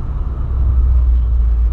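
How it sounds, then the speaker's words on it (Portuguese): A deep, loud engine rumble roars steadily and close, heavy low-end growl filling the whole moment. "Um carro que berra, um carro que anda pra caramba"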